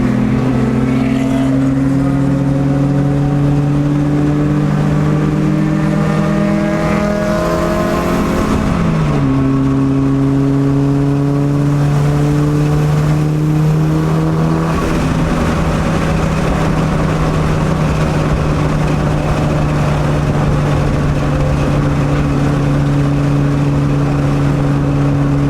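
The engine of a Mitsubishi Lancer Evolution IX at race pace on a hot lap at Pikes Peak International Raceway in Colorado. Heard from inside the car, it drones loudly and steadily, with its pitch climbing and dropping through the gear changes and no talk.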